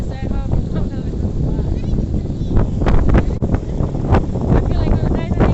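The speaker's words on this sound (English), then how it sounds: "It's very windy" Loud, blustery wind roars and buffets the microphone throughout at Kom Ombo, Egypt, with a voice speaking faintly underneath.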